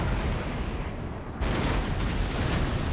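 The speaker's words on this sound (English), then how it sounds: "My cannons have not hit a single shot." Napoleonic-era cannon artillery rumbles across a battle in the Napoleon: Total War strategy game, a dense continuous roar of booms with a sharper, louder surge partway through and no speech.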